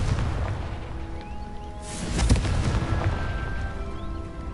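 Muffled fiery blast of the Confringo spell in Hogwarts Legacy, a low rumbling boom swelling midway over a dense, steady game ambience.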